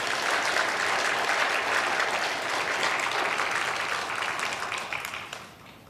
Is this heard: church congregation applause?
yes